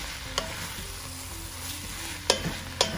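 Barley chicken fried rice being stirred quickly in a pan, a soft low sizzle with a few sharp scraping clicks of the utensil, close and quiet with no speech.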